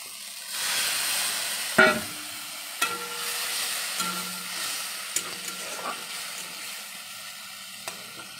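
Water hits sautéed masala in a hot pan for bali chatur and bursts into a loud hissing sizzle that settles into steady frying, with occasional clinks and scrapes of a spoon.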